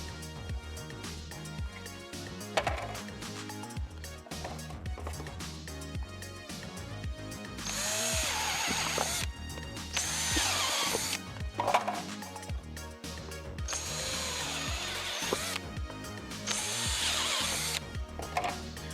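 A large hole saw drills access holes into a cast scout trooper helmet, with a close, loud drilling whine in several long bursts alongside clattering and handling noises between cuts.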